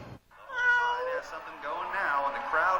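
A cat meows in a long, drawn-out, wavering cry, loud and close, following a brief click at the start.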